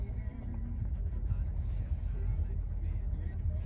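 A car cruising on the highway toward Chicago, with a steady low road rumble and engine hum heard from inside the cabin, continuous and fairly quiet.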